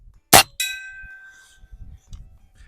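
An airgun pellet strikes a steel gong target at a shooting range: a single sharp clang preceded by the shot's pop, then a bright metallic ring that decays over about a second.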